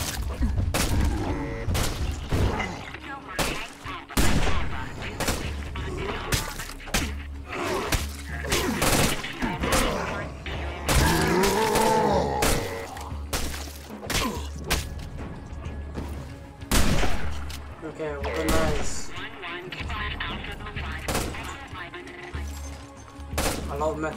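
Repeated gunfire while zombies are shot in the video game State of Decay, with sharp bursts and thuds punctuating a busy, loud mix, and talk running underneath the action throughout.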